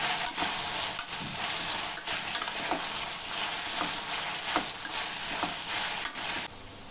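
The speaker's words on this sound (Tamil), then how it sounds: "இந்த வெண்டைக்காயோட அந்த பிசுபிசுப்பு தன்மை போற வரைக்கும் நல்லா நம்ம வதக்கிடலாம்" Okra (ladies finger) sautéing in a hot pan for a home-style tamarind curry, a steady loud sizzle of frying with repeated scraping stirs and occasional clinks, no voices.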